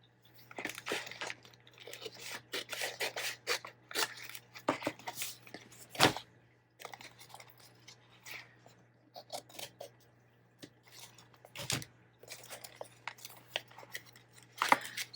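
Scissors snip through paper for a junk journal in quick, close, crisp runs of cuts separated by short quiet gaps, with a faint steady hum underneath.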